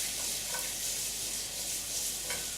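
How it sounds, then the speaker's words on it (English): Vegetables seasoned with herb salt stir-frying in a hot pan, giving a steady, close sizzle with faint scraping stirs throughout and no talking. "So put it in like this, turn up the heat, stir fry it."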